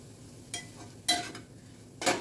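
Grated coconut and onion stirred in an oiled pan, with three bursts of scraping and sizzle as the spoon moves through the mixture, separated by quieter gaps.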